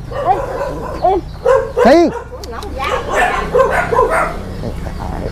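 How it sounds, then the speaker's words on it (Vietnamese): Several dogs at a Vietnamese family home bark and yip in short bursts, fairly close, with people talking over and between the barks. "La mấy con chó nó không sủa được không?"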